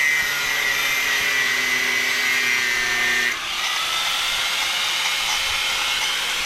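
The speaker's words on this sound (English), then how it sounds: "he's using this grinder, I think it's called, to basically cut it" An angle grinder cuts through metal posts, throwing sparks: a loud, close, high-pitched whine with steady tonal bands. Partway through, the pitch drops abruptly as the disc bites and loads, then a rougher, noisier grind continues to the end.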